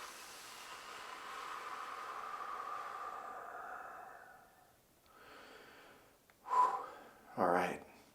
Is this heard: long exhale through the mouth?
yes